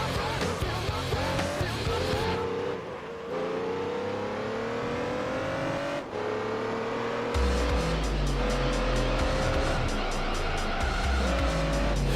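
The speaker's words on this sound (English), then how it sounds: "The cars is coming up right on my ass." Race cars in a racing video game roar close behind and around the player, with engines revving up and down and tires squealing through turns, loud and continuous with a sharp cut partway through.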